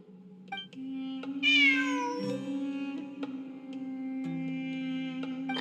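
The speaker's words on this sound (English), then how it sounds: "It really is a cat." A cat in the video game Genshin Impact meows once, loud and close, with a rising then falling cry, over a steady game soundtrack of sustained tones.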